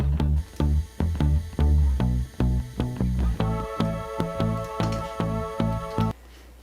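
Fairlight CMI vocal patch synth plays a music passage with steady, evenly spaced rhythmic hits and sustained tones, with a brighter sustained chord layer entering halfway and stopping abruptly near the end.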